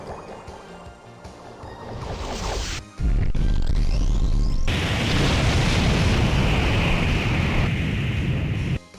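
A powerful explosion attack erupts in Grandia 2, preceded by rising magical whooshes and chimes, then a sudden heavy blast that gives way to a long, loud roaring rumble of debris and fire.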